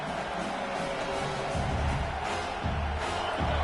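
Stadium crowd noise from an NCAA 26 college football video game, a steady broad roar of spectators holding at a moderate level through the clip, with low rumbling swells and no clear voices on top.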